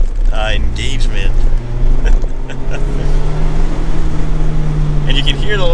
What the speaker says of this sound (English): And you can hear the little 4-cylinder.